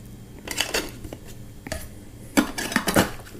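A $7 metal cook pot holding a stove is handled, giving off several light metallic clanks and rattles, a pair of sharper knocks near the end, close and fairly quiet.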